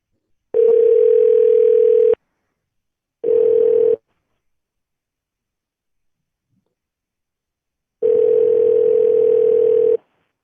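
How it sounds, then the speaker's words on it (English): A steady telephone dial tone sounds in three separate stretches, about one and a half seconds, under a second, then two seconds, with silence between. "I just dialed the number"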